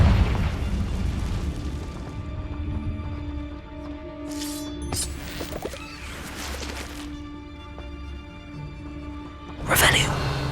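Bombarda and Confringo spell explosions in Hogwarts Legacy, a couple of bright crackling blasts mid-scene and a louder burst near the end, set against a humming game backdrop.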